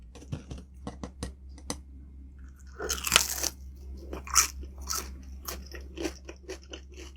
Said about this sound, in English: let's start with the crispy skin. Gotta dip it in the vinegar.